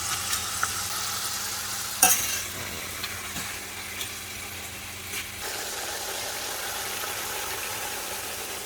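Potatoes fry in hot oil for çökertme kebab, a steady close sizzle with a sharp clink early on and scattered small clicks from stirring throughout.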